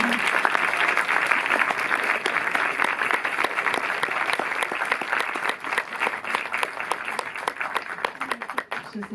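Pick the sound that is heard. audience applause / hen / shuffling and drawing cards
audience applause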